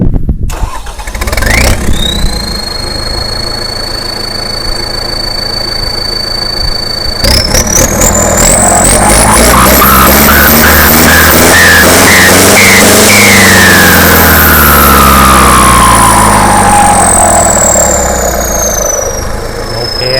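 A loud new Kubota MU4902 tractor engine, stock, cranks and catches, then settles into a steady, close rumbling idle with a brief rev and a high whine.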